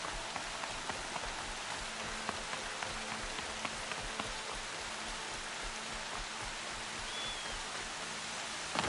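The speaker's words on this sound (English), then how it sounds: "More rain." Steady rain falling on a town during a festival, a dense even hiss of drops on surfaces with faint scattered patters, heard alone with no voices for about nine seconds.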